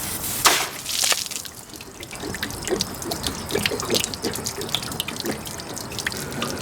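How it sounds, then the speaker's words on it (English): Water gushes and sputters from an RV water heater's opened pressure relief valve, an irregular close splashing flow with sharp bursts near the start settling into a steady, gurgling stream. "bleed the pressure off your water heater by opening the water relief pressure valve"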